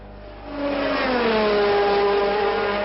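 Formula One race cars at full speed, Arnoux's Ferrari overtaking in a 1984 race: a loud, close engine scream rising as a car sweeps past, pitch climbing and holding steady, no talk.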